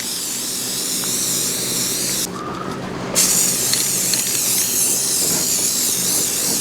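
A steady hiss of spray paint runs for several seconds, loud and close, with a short dip and a brief bright burst midway.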